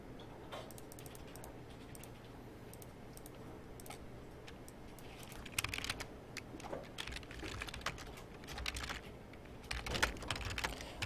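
Computer keyboard typing, with soft scattered keystrokes that pick up into denser bursts of clicking in the second half, heard alone with no voices.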